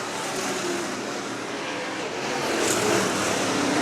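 Race cars roar around a dirt track during a Manistee feature, a dense, continuous engine drone from a close pack running nose to tail, swelling louder near the end with no speech.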